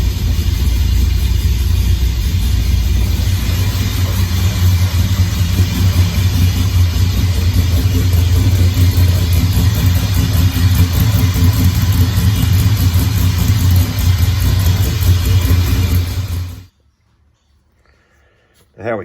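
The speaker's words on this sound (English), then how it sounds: "That's an ultimate cold start for you right there." A GM LS1 V8 car engine idles after a cold start, a loud steady low rumble held for about sixteen seconds before it cuts off abruptly into near silence.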